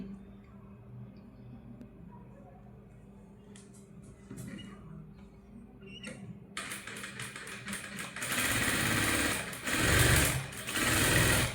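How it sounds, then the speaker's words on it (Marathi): A sewing machine stitches a puff blouse sleeve, starting after quiet talk with a soft hum, then a loud, rapid rattling run of stitching in bursts toward the end, close by. "इथे बघा जो आपण शेप दिलेला होता त्याला मी एक शिलाई घेतली"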